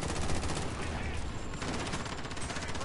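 Rapid gunfire in the video game Warzone, dense bursts of shots crackling continuously for a few seconds, fairly quiet overall.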